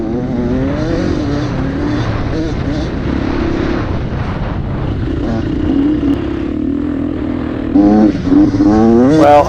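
An enduro dirt bike rides a trail at a Michigan sprint enduro race, its engine loud and close with a rising and falling whine as the throttle changes. The revs climb sharply toward the end.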